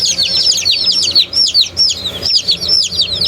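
Young meat chickens, all cockerels, peep and chirp in a busy overlapping chorus of rapid high calls, close by and steady, with no talking.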